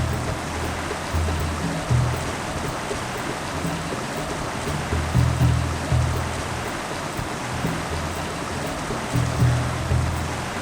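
The swirling waters of the Mara River churn in a continuous broadband rush, with deeper surges pulsing through every second or so, loud and close.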